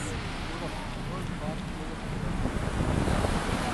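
Steady roar of Atlantic Ocean surf and chilly gusting wind across the microphone at Waterville, Ireland, a broad continuous wash that swells slightly louder toward the end.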